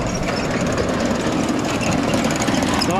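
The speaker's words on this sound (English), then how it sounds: "We're going to want earplugs in here. It's definitely not quiet. But that's just an elevator for you." A running ear corn bin grain elevator gives off a loud, continuous mechanical roar and clatter, heard close up and steady throughout with no talking.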